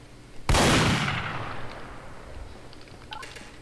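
A single loud gunshot in Garry's Mod, a sharp close blast with a long fading rumble tail, then quiet.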